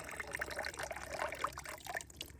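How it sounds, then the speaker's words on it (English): Water pours from a gold pan into a bucket while heavy material is separated from light material for gold recovery, a soft continuous trickling pour lasting a couple of seconds, faint and close with no talk. "So release the water."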